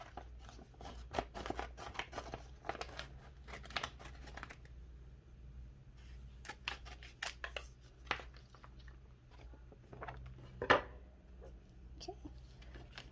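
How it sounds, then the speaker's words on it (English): Scissors snip through a vinyl sheet in a quiet indoor setting, giving scattered short crisp cuts and crinkles of the plastic over a low steady hum, with a sharper cluster of snips near the end. "I have some scissors, because I'm also going to trim this vinyl down a little bit"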